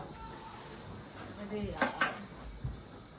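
A spoon fetched in a kitchen at a street-food setup: faint metallic clinks and clatter of utensils and dishes, a few light knocks, set low and fairly distant.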